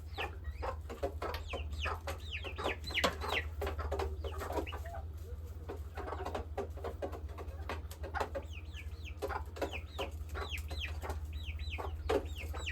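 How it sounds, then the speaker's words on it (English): Several hens cluck and call in a farmyard flock, a steady run of short clucks and chirps close by over a constant low hum, with no voices. "there's nothing like chicken that are trained by their hen"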